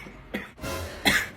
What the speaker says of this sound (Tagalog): Parang inuubo na to, ah.